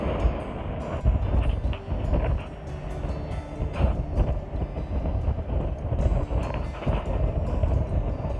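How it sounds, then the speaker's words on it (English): Wind buffets the microphone outdoors on a cloudy day in County Mayo, near Westport, Ireland, a loud, continuous low rumble with gusty surges and no talk. "It's not a sunny day today, but it's actually windy."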